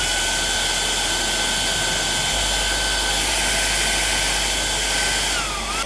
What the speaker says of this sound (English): Just going to get a hairdryer on a piece and we'll have a look at it.